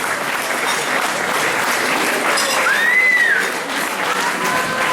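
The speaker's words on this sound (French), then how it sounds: "Ah, faut les applaudir, c'était bien." Steady, loud applause from a theatre audience at Salle Paul Eluard after an amateur Provençal company's excerpt of Fanny, continuous and full, with a faint whistle-like tone rising briefly over the clapping.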